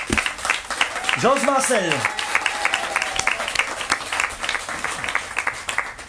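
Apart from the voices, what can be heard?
applause for the schoolchildren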